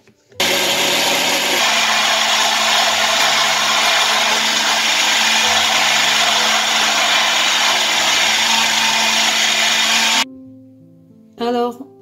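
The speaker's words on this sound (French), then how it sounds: "Je mixe le tout." A mixer whirs at full speed while blending crêpe batter of flour and other ingredients, a loud steady roar lasting about ten seconds that stops abruptly, followed by a short quieter burst.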